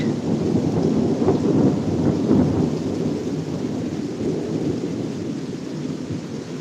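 Heavy rain pours while deep thunder rumbles and rolls through a severe thunderstorm in Pittsburg, Kansas, the booming swelling early and then easing into a steady, fading roar under the rain.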